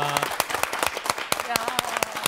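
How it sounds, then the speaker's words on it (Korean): Audience applause at a Korean TV talk show, greeting a silent-film narrator: a burst of scattered, uneven clapping with brief tones and voices mixed in. "큰 박수로 환영합니다"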